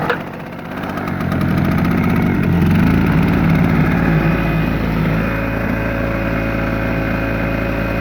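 A Powercraft 650W portable generator on a cold start catches after a pull and settles into a steady, loud running drone that holds evenly to the end.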